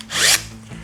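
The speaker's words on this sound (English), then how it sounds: "we gotta drill this out" A drill bites briefly into a part during a Mercedes W203 C-Class wheel bearing repair, one short whining, grinding burst rising in pitch, then a faint hum afterward.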